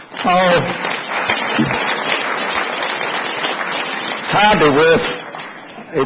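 Audience at a gala on net regulation clapping in a sustained round of applause, with a voice speaking over it at the start and again near the end.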